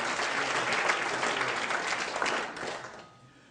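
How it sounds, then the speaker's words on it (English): Audience at a talk by the UK Chief Rabbi breaks into a dense round of steady applause that holds for about three seconds, then thins and fades out near the end. "round of applause for everyone who's made it possible"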